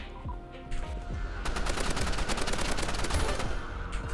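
Rapid bursts of assault rifle fire crackle in the Roblox Rivals shooter game, loud and close, building into a sustained automatic stream of shots after a short opening.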